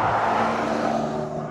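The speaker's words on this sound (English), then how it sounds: "There he goes, the Carrera T." A Porsche 992 Carrera T sports car sweeps past on a sunny road in Belgium, its loud engine note close and steady before it fades slightly as the car moves away.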